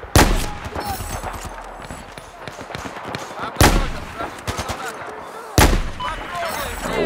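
Sniper rifle shots in Battlefield 4 during an Obliteration match, with three sharp, loud reports spaced a few seconds apart over constant battle noise and scattered distant gunfire.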